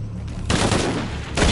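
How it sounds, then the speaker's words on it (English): Rapid bursts of automatic gunfire from a firefight in the PS5 game Shadow of the Tomb Raider, loud and dense, with a fresh volley near the end. "Weapons free! Fire!"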